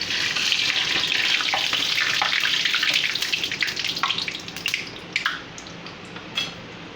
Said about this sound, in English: You see, the samosa is frying.